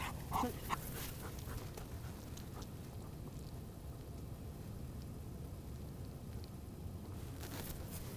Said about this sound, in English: Oden is a German Shepherd